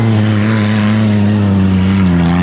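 Front-wheel-drive rally car engine held at high revs with the throttle kept down, a loud, steady, close drone with a strong low hum and a slight rise and fall in pitch, no voices.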